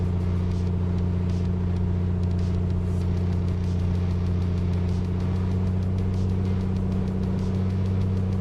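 Piper Comanche engine run-up to 2,000 RPM in a flight simulator: a steady, loud propeller-engine drone held at constant pitch throughout, with no talk.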